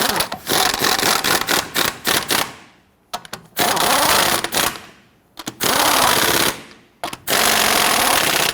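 Lug nuts snugged down on a Nissan Frontier front wheel with an impact wrench, several loud close rattling bursts separated by short pauses.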